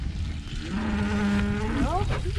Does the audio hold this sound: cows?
yes